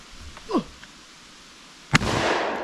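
A shotgun fires a hunting shell outdoors: a single sharp, loud blast followed by a rolling, echoing tail, after a brief, fainter sound a moment earlier.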